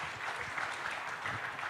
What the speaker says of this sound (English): Let's give round of applause again to Professor Jeffrey Sah